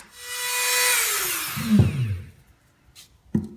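Rotary tool with a cutoff disc cutting through screw heads, a high whine that winds down and drops in pitch, followed by a few short clinks of metal, close by.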